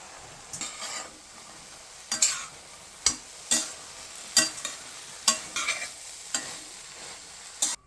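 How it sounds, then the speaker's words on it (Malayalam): Fried soya chunks tumbled into a pan of masala and stirred, a spatula scraping in repeated sharp strokes over a soft sizzle, close and without voices. "അതിലേക്ക് നമുക്ക് ഫ്രൈ ചെയ്ത് വെച്ചിരിക്കുന്ന നമ്മുടെ സോയ ഇട്ട് കൊടുക്കാം"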